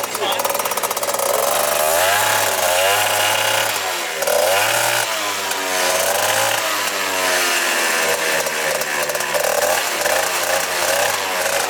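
A Gilera Runner 180 scooter engine bogs and revs unevenly during a street race against a Phantom F12, loud and close with rising and falling buzzy engine tones, and voices talking over it.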